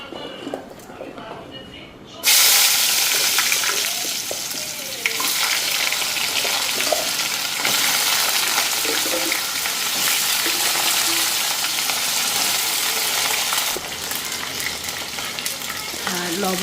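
Pointed gourd and potato pieces with bay leaf hit hot oil in a pan and burst into a loud, steady sizzle that continues throughout, with stirring noises and a voice talking over the frying.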